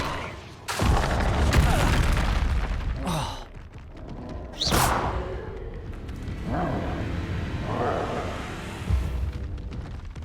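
Explosive Confringo spell bursts in the Hogwarts Legacy game, a series of loud booming blasts with crackling debris and a sharp high whoosh midway, rumbling continuously over about ten seconds.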